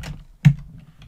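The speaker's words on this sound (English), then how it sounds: "So I type quit here," A few keystrokes on a computer keyboard entering a quit command in the GDB debugger, faint soft taps with one sharper click in the middle, close and alone.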